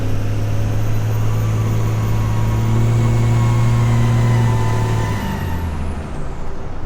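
Diesel truck with a boost leak in its 3-inch intercooler piping, giving a steady loud engine drone with a high whistling squeal on top that holds for about five seconds, then shifts and eases as the revs drop.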